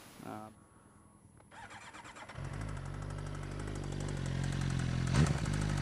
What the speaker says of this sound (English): heard some scary little noises in the engine